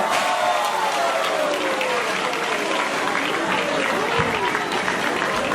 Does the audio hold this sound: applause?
yes